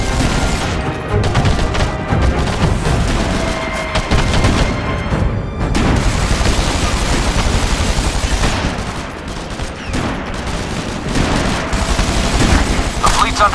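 Sustained heavy gunfire from SOCOM 4: U.S. Navy SEALs, with dense overlapping automatic bursts and booming shots rolling continuously and loud throughout, while voices call out over the shooting.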